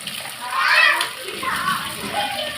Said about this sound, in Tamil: நெத்திலி கருவாடில் கொஞ்சம் 2 வாஷ் பண்ணிட்டா போதும்.